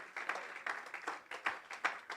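A church congregation applauds for Jesus during an evening service, the clapping faint and distant, pulsing in uneven bursts.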